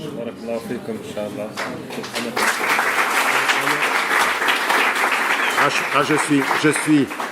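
A crowd at a public talk applauds loudly and steadily, clapping building after a voice and continuing with shouts mixed in.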